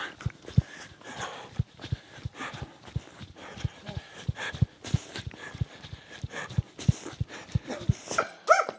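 Dogs bark at night in Gran Canaria beside the course of a 125 km ultra-distance trail race, giving a fast, steady run of sharp barks over a constant noisy background.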